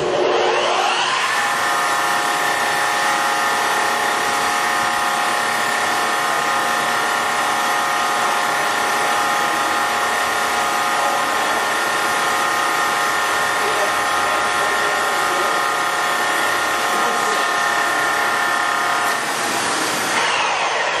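A Servo 16.5 x 40 inch metal lathe runs at its top speed of 2,000 RPM, giving a steady, loud mechanical whine with a smooth motor hum that holds unbroken, then eases slightly near the end.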